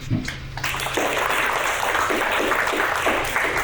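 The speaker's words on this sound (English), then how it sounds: "I want to give a round of applause for everyone" Audience applause at a university poetry slam, a dense, sustained wash of many clapping hands that swells in after a brief opening and carries on steadily to the end.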